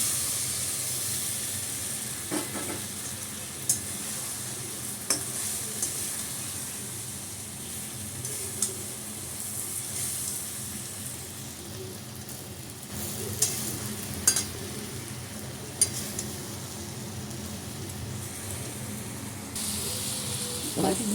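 Cornflour slurry being stirred into a sizzling pan, a steady low frying hiss with occasional scraping clicks of the spoon throughout.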